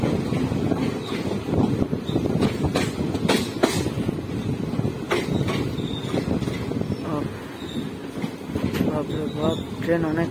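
Aboard the 03117 Dhano Dhanye Express between Palashi and Murshidabad, the carriage gives a continuous rattling rumble with rhythmic wheel clatter and wind buffeting the microphone, while voices talk nearby.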